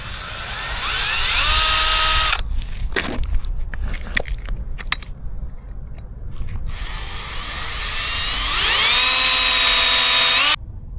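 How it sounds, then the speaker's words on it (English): A power drill bores a hole in a semi truck part, whining up loud and steady for a couple of seconds, then a pause of clanks and handling noise, then another long, rising whine that cuts off sharply. "this hole is drilled"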